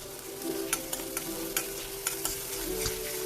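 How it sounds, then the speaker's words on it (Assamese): Paneer masala fries in oil in a pan while being stirred, with quiet scraping strokes roughly every half second over a soft, steady sizzle, and no talking. "খুব ধুনীয়াকৈ এনেকৈ লৰাই লৰাই ভাজি আছোঁ"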